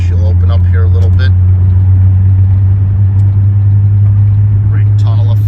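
A 1990 Nissan 300ZX engine drones steadily and loudly from inside the car as it accelerates on the road, a constant low rumble with brief faint high chirps near the start and end.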